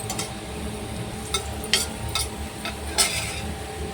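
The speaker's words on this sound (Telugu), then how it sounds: "వెల్లుల్లిపాయలు కూడా వేగిపోయింది" Garlic frying in a pan while a utensil stirs it, with a low continuous sizzle broken by a few sharp metallic scrapes and clinks against the pan.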